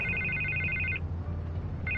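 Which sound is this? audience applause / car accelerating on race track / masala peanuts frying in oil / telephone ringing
telephone ringing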